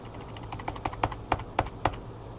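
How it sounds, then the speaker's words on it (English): Keys clatter on a computer keyboard in a quiet room, a quick irregular run of soft clicks with a few sharper strokes standing out over a low background hum. "Start typing."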